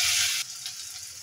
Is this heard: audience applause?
no